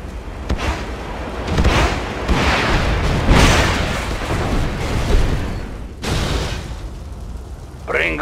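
Airstrike explosions from MiG jets in the video game Yuri's Revenge: a series of heavy, rumbling booms swell and fade one after another over the game's background, with a burst of game voice near the end.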